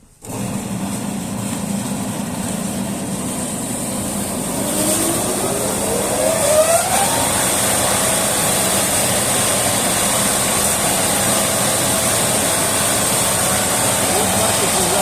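A custom-built electric saw is switched on and runs at a constant, loud steady drone with a high whine, a rising tone near the middle as it comes up to speed, then holds without a break.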